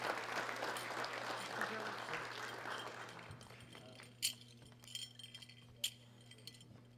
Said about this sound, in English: Big round of applause for our 3 winners.